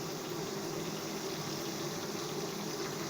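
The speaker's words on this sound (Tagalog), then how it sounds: "Ayan, nagprito tayo ng isda." Fish frying in a pan on a home stove, a steady close sizzle of hot oil with a constant crackling hiss and no talk.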